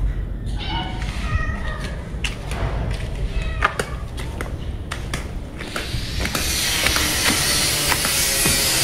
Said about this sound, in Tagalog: Ay, narinig ako ng pusa.